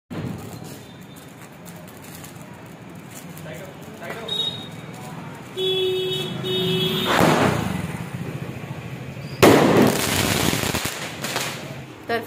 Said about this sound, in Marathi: Yes, this is my first time trying का फटाका.